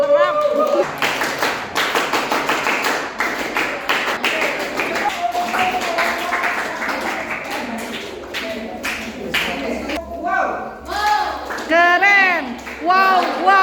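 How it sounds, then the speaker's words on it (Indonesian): Rhythmic hand clapping by a group at a scout inauguration ceremony, with sharp repeated claps in bursts amid children's voices and lively talk and cheering. "Tepuk tangan."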